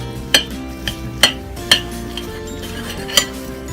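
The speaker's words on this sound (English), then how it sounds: "I'm going to finish plating the rest of these up" Plates and cutlery clink as stuffed burgers are plated in a kitchen, with several sharp, close clatters spaced irregularly over a low background hum and no speech.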